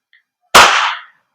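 A single sharp crack from a WE Hicapa Type K airsoft gas blowback pistol firing at a target, loud and close, decaying quickly into a short hiss.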